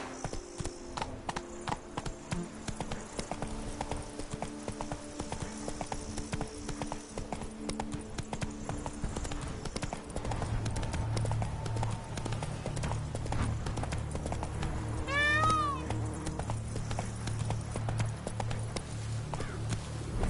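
Roach the horse galloping in The Witcher 3, hooves clip-clopping in a quick steady rhythm throughout, with a brief whinny near the end and a voice calling out over the hoofbeats.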